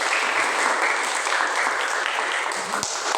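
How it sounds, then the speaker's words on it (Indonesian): A group claps for the first group of presenters in a classroom, loud, dense and continuous throughout, with no voices over it. "tepuk tangan untuk kelompok satu dulu"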